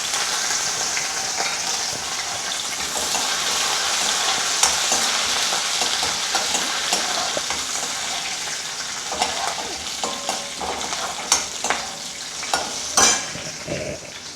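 Green chillies and curry leaves sizzle and crackle in hot oil in a pan, a dense continuous fry with occasional stirring clicks and louder pops toward the end.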